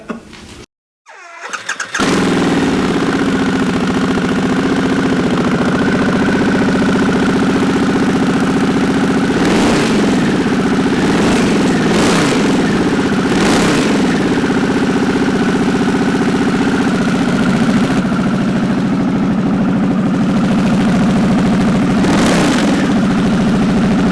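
Adventure motorcycle engine cranking and firing up, then settling into a loud, steady idle close by, with several short throttle blips rising above it.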